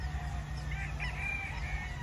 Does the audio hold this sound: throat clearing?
no